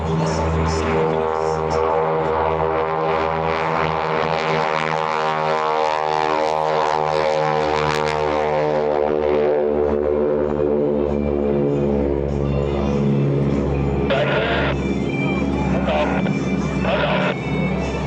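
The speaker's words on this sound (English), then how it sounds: "They're on the takeoff roll now, ladies and gentlemen. The Titan Aerobatic Team takes the sky." Loud, droning propeller engines of the Titan Aerobatic Team planes roaring up on their takeoff roll at an air show, the pitch shifting as they pass, with an announcer talking over it.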